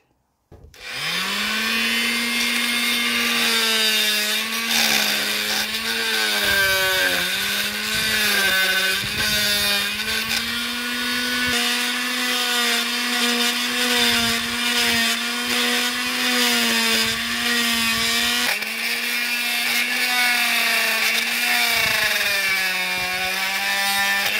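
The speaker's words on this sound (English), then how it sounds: "we'll be at this with the reciprocating saw, get rid of these excess plastic" A reciprocating saw cuts excess plastic on a Viking Reload kayak foot steering upgrade, a loud, continuous buzzing drone with a steady harmonic whine that dips in pitch as the blade loads, running nearly unbroken throughout.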